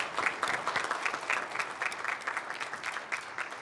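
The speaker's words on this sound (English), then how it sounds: "Let's give our first round of applause to our outstanding students." An audience at a college of nursing stethoscope and commitment ceremony claps for the nursing students, a brisk, even round of applause from many hands filling the room.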